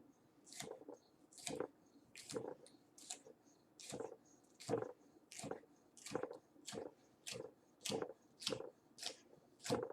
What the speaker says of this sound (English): I hold the pepper flat while I rock down and forward to slice the pepper into thin slices